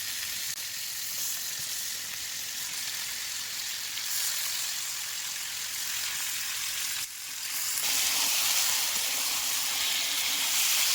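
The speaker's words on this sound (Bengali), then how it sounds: "এবার এই কষা মশলার মধ্যে মাংসটা দিয়ে দেবো।" Chicken pieces from a free-range local rooster dropped into a pan of spice paste that has been fried down, sizzling loudly and steadily. The hiss grows sharper and denser partway through as the meat settles into the hot oil.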